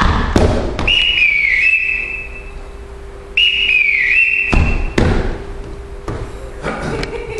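A shrill whistle sounds twice in long, warbling blasts, between heavy thuds and a bouncing knock, with a low steady hum underneath.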